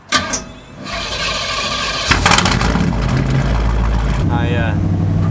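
A Pontiac Firebird engine starts and revs, then pulls away, holding a steady loud drone that stays close throughout, with a brief high whine near the end.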